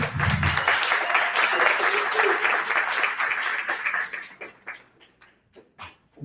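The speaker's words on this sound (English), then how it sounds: "Give a big round of applause for him." Applause from an audience at a talk on transforming business with AI, a loud, full round of clapping that holds for about four seconds before thinning into scattered claps.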